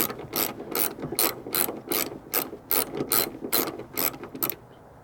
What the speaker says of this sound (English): Sure not to smack the car with the ratchet when it breaks loose.